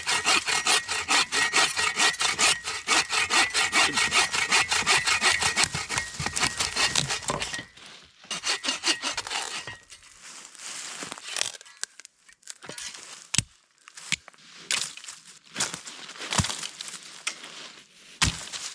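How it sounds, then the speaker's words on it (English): Firewood being cut by hand in pine woods at a high-elevation campsite: rapid rhythmic saw strokes on wood for several seconds, then scattered louder knocks and cracks of wood being handled, close by with no talk. "I'm gonna get some firewood chopped because it's gonna be getting dark soon"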